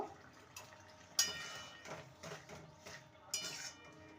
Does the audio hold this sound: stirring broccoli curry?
yes